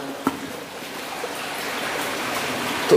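Water flows steadily through an abandoned baryte mine in Ireland, a constant rushing wash that fills the space, with a faint knock or two and no voices.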